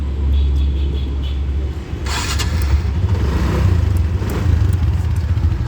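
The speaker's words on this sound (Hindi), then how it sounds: "अब इसको आपको स्टार्ट करके दिखाते हैं।" A TVS Ntorq scooter starts up: a short clattering crank gives way to a steady, close engine rumble that continues to the end with no talking.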